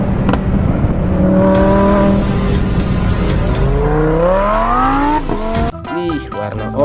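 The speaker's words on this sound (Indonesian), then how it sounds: "Mobil balap." Toy race car giving a steady whirring engine drone with rising pitch sweeps like revving, under an excited voice talking over it throughout.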